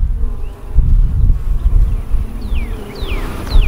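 Honey bees buzzing around an open, docile hive full of honey during an inspection, a low steady drone close by with a few thin bird calls sweeping down in the background.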